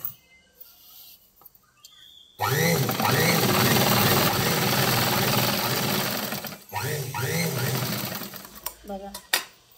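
An electric sewing machine stitches a bottom strip onto patiala pants, a loud close whirring run of several seconds followed by a shorter burst, with brief quiet gaps between.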